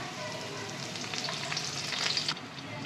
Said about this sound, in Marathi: आता आपण आहे ना कढीपत्ता घालून घेऊया.